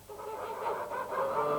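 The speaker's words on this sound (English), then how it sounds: "But only one goose follows him." Several geese honk and cackle in a children's television programme, a continuous harsh, nasal honking that swells in short bursts, fairly close and with no talking over it.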